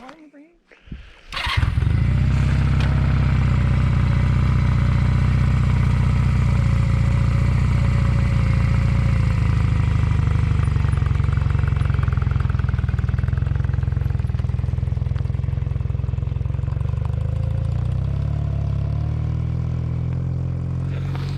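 A motorcycle starts up, pulls away and keeps riding, its engine rumbling loud and steady close by for about twenty seconds with a brief clatter at the start, while a voice talks over it.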